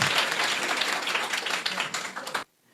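Loud, dense applause and clapping from a school audience for a contestant named Rajan at a quiz-show-style event, sustained and close for over two seconds before cutting off sharply.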